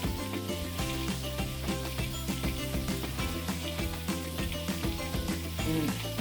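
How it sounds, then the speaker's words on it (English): Sausage sizzling steadily in a pan, with a constant crackling fry at moderate level and no pauses or voices. "my sausage is starting to make a little noise over here"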